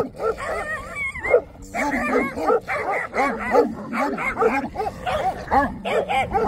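Romanian shepherd dogs, including a three-year-old, at a mountain goat sheepfold bark loudly and rapidly in a continuous, overlapping chorus of yelps and barks.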